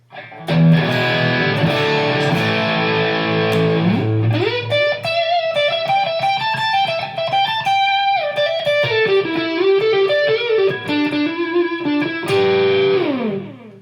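A distorted electric guitar through a Marshall JCM800 amp model on a Fender Mustang GTX100, with a Tube Screamer in front, plays a loud, driven rock lead with sustained chords and melodic bends, played alone without any talking.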